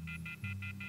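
Telephone beeping in the video game The Wolf Among Us, five short evenly spaced electronic tones over a low hum, faint and close.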